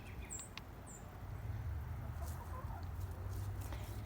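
Hens cluck softly at a moderate distance, a few short calls over steady wind noise in a cold backyard flock with Brahma hens.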